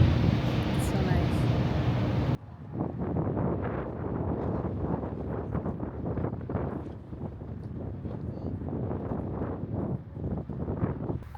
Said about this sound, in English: I love the wind.